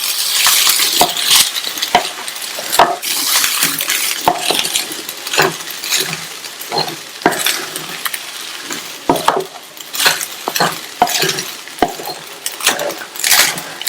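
Carrot rice with fried cashews being stirred in a pan on a stove at low heat, with repeated scraping strokes and sharp metallic clinks of a spoon against the pan over a soft sizzle, no talking.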